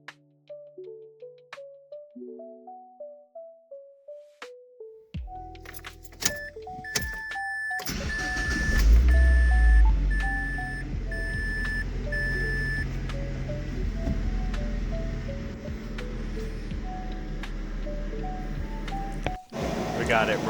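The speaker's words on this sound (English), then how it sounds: "Now it is a little bit loud. That's because I've got those electric cooling fans running right now." Mazda Protege5 engine idling after a timing belt and motor mount job, a steady loud hum with electric cooling fans whirring, coming in after a run of electronic beeps and clicks.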